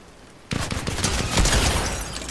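Rapid gunfire in the video game Fortnite bursts in after a half-second of quiet and keeps going as a dense, loud, continuous volley to the end, with no talk.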